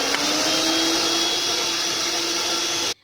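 An electric mixer beating chocolate cake batter gives a loud, steady motor whir that holds evenly for nearly three seconds, then cuts off abruptly.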